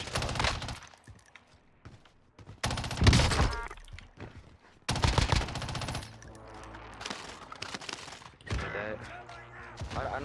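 Automatic gunfire rattles in Call of Duty Warzone, with bursts of rapid shots in loud clusters separated by quieter gaps and a voice speaking between them.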